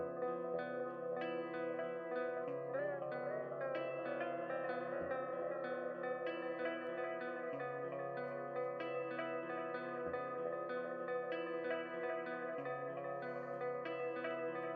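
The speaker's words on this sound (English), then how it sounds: "this slow button, this controls the echo and how slow that's going to be in the background there" Tape-style echo from the Echo B2 app, modelled on a classic Italian tube echo machine, set to its slow setting: a steady, sustained harmonic tone with smeared repeats and reverb trailing continuously behind, loud and unbroken throughout.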